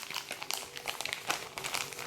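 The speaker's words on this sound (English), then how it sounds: "Here I have a plastic bag to collect water." A plastic bag for collecting water, part of a small tin survival kit, crinkles and rustles in close, quiet, irregular bursts as it is handled.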